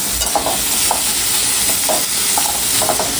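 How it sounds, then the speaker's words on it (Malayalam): Sliced onions frying in coconut oil, a loud steady sizzle with several spoon scrapes and stirring taps spaced through it, close by and without voices. "അരിഞ്ഞു വെച്ചേക്കുന്ന സവാള ഇടാം തട്ടി കൊടുക്കണം"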